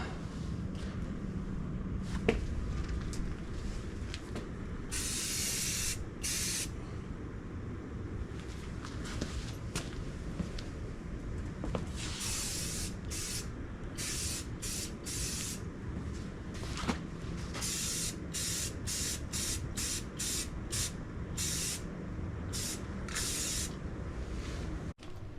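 A spray gun lays paint onto a 1969 Dodge Charger body, with repeated short bursts of hissing spray separated by pauses and quiet shuffling in the shop.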